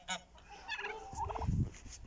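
Farm geese and fowl calling near a coop, a few short, nasal honks and gobbling cries in quick succession, fairly close but quiet.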